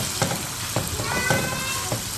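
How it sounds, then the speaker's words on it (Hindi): Chicken pieces frying with whole spices in a hot pan, a continuous soft sizzle with a few louder spatters and stirring scrapes. "चिकन अब इसमें मैं फ्राई करूँगी"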